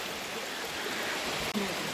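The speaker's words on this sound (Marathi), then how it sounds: "इथे खळखळ पाण्याचा आवाज, असा मंजूळ असा आवाज येत आहे" Water from the stream at Devkund waterfall rushes in a steady, unbroken broadband wash, close and constant for the whole stretch, with no voices over it.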